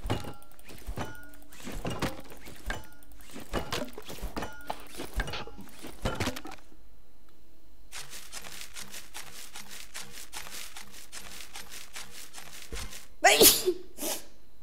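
A single sharp, loud sneeze bursts out near the end after a stretch of scattered clicks and knocks, during Scrap Mechanic gameplay.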